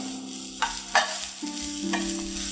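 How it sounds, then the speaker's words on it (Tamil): Grated coconut being stir-fried in a pan over a low flame until golden: a soft steady sizzle with a few scraping stirring strokes, close and fairly quiet, with no talk. "இதை சிம்மில் வச்சுட்டு நல்லா பொன்னிறமாக வறுத்துக்கலாம்."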